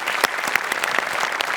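An audience at a comedy stage show applauds a performance, a loud, close burst of many hands clapping with sharp individual claps standing out throughout.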